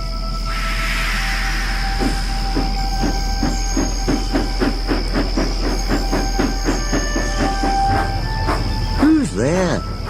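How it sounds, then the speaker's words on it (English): A railway engine runs along the track with a regular clickety-clack of wheels over rail joints and a sustained steady tone, close and prominent, ending in a brief squealing sweep. "That sounds like an engine"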